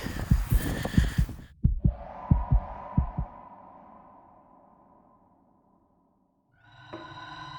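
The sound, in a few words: heartbeat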